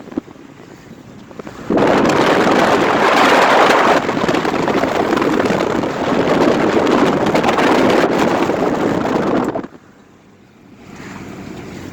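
A 1981 Plymouth Reliant K wagon accelerates hard, its engine and road noise swelling into a loud, steady roar for about eight seconds before dropping off to a quieter hum, with no talking.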